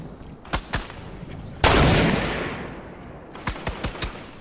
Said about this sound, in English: They're shooting at me. I'm shooting at them.